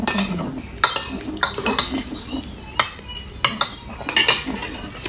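A ladle scoops rice from a pot, giving a run of close, sharp metallic clinks and scrapes at an uneven pace, with faint voices in the background.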